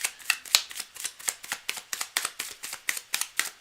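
A deck of cards is shuffled repeatedly during a live reading session, a close, rhythmic series of crisp riffling bursts at a steady pace.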